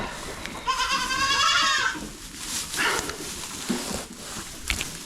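Boer goats bleating inside a kidding barn: one loud, wavering bleat rings out near the start, followed by softer scattered calls and barn shuffling.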